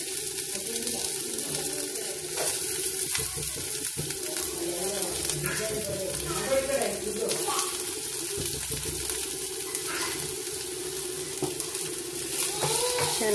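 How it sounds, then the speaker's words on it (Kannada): Curry leaves and chopped onion frying in a pan for a peanut snack, a dense continuous sizzle with occasional stirring scrapes, loud and close, with no talking. "ಚೆನ್ನಾಗಿ ಫ್ರೈ ಮಾಡಬೇಕಾಗುತ್ತೆ."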